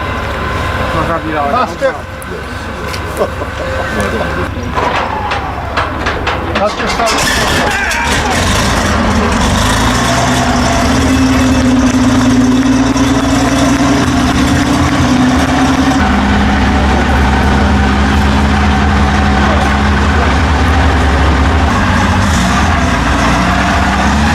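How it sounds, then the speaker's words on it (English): A World War II German Tiger tank's 700 horsepower Maybach engine is cranked by hand, with clanking and rattling and a rising whir, then catches and settles into a loud, deep, steady idle rumble that holds to the end. "See a World War II German Tiger tank fire up with its hand-crank starter, ideal for cold weather."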